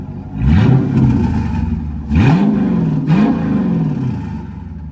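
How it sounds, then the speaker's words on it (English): A wrecked Dodge Challenger R/T's V8 is blipped twice, each rev swelling loud and close before settling back to a rough, steady idle; no one speaks. "Kev, you wanna give it a little rev?"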